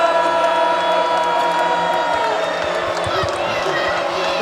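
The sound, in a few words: basketball arena crowd cheering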